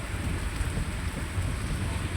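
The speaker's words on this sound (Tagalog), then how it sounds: "Kusog king ulan uy ni kalit." Sudden heavy rain while riding home in a tricycle cab, a dense steady roar of downpour on the surface throughout, with a low rumble beneath.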